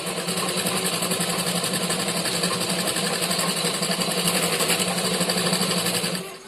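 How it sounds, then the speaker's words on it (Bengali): A sewing machine stitching a fabric shopping bag runs at a steady fast rhythm, its even, buzzing mechanical chatter close and constant for about six seconds before stopping. "এখন এই দিকে সেলাই করে নেব"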